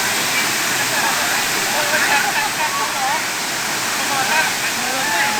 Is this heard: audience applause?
no